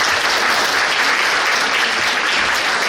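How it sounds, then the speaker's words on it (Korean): An audience at a public forum on disability support claps to welcome a speaker, producing dense, sustained applause that is loud and continuous for the whole stretch, with no speech over it. "박수로 환영해 주시기 바랍니다."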